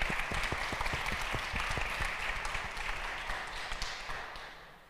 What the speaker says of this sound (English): can we just give a round of applause to say thank you for the young people for joining us